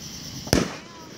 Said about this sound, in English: I'm only showing the fireworks in this video because it's really, really dark